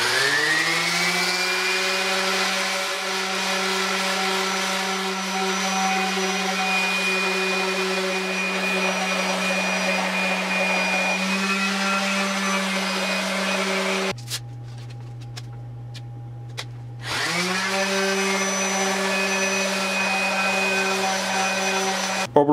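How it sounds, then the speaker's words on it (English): Orbital sander smoothing poplar wood at 80 and 100 grit, a loud, steady close-up whine that drops briefly when the machine eases off, then resumes at full speed. "Orbital sander made quick work of that."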